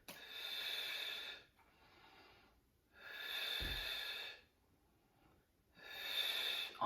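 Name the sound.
breathing in and out during a Pilates exercise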